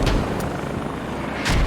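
Rotor chop of a British helicopter hovering in the military shooter game Squad, a steady low rumble throughout with brief sharp bursts near the start and end, no talk.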